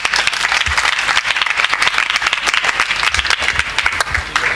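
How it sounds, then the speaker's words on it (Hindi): A hall audience at a spiritual discourse applauds loudly and steadily, dense overlapping clapping that goes on without a break, with a few sharper claps standing out near the end. "ये तालियां तो कमजोर हैं"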